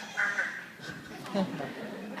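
A parrot imitates a duck, giving a few raspy quack-like calls at close range, interspersed with speech-like chatter.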